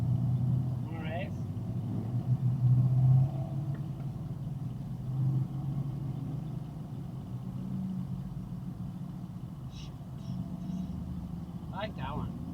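A Ford Mustang's engine idles at a car show, its low steady rumble running throughout beneath people talking nearby, with a brief swell in loudness a few seconds in.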